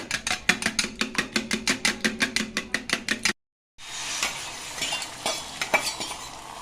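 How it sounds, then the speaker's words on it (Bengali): An egg omelette cooks in a pan. A fast, even run of rhythmic beating taps comes first, then a short silence, and then a steady close sizzle with occasional utensil clicks. "সুন্দর করে ডিমটা ভেজে 2 খণ্ড করে নেব"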